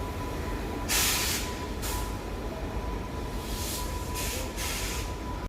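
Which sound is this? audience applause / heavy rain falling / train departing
train departing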